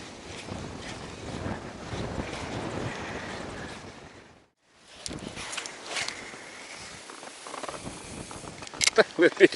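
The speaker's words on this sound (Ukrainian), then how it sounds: "Вітер такий же ж, звісно" Wind roars steadily across the microphone while fishing, in broadband gusts, briefly dropping away before rushing back, with faint sounds of water and movement underneath.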